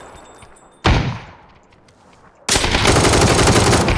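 Loud bursts of gunfire in a shooting video game, one short blast followed by a quieter stretch, then sustained rapid fire filling the final second and a half.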